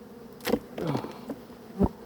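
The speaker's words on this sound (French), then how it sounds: "volume d'abeilles très importante" Honeybees buzz around a busy, heavily populated hive, a low droning hum with a few louder passes of bees flying near, brief and fairly quiet, no voices.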